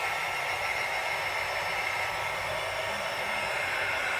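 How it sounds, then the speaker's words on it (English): Heat gun blowing on embossing powder on a stamped birthday card, a steady airy whoosh like a hair dryer, constant and moderately loud with no talking. "bring out our heat gun"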